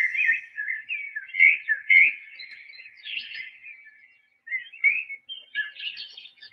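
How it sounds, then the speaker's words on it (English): Birdsong playing from a NexGadget sound machine, bright chirps and whistled phrases in quick bursts with short pauses, clear and close with nothing else behind it. "The birds."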